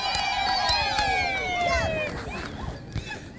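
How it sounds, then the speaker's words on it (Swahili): Crowd at a political gathering cheering and ululating for the MP, high wavering trills and shouts rising together over a dense murmur, then fading toward the end. "Wapi shangwe na vigelegele kwake?"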